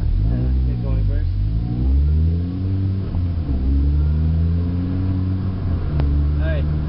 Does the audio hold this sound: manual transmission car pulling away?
yes